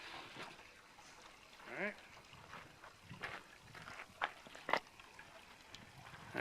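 Water drips from a newly built manifold onto a water tank: sparse, irregular small drips and trickles, fairly faint and close, with some quiet background noise.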